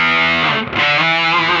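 An electric guitar plays through a Way Huge Swollen Pickle Jumbo Fuzz MKII pedal, a thick buzzing sustained chord with a brief dip before ringing on, loud and close.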